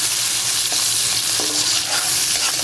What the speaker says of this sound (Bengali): যে পেঁয়াজ আর টমেটোটা ভাজা হয়ে গেল